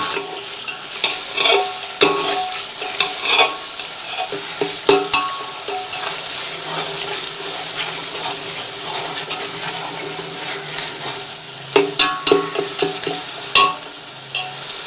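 A mutton biryani mixture is stirred in a cooking pot with repeated scraping strokes and sharper clatters over a steady sizzling hiss, close and fairly loud, with no talking.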